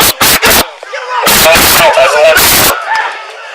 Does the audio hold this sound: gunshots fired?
yes